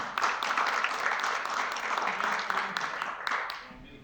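Audience applause at a train-the-trainers session, a steady wash of clapping from a room full of people that holds for several seconds and then thins out and fades.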